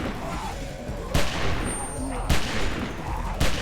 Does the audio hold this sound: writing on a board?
no